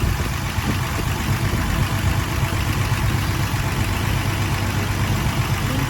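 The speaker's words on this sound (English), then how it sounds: "Well, we've been sitting here for about an hour, letting it idle." A vehicle engine idling after about an hour of running, a loud, steady low rumble and hum that holds constant throughout with no voices.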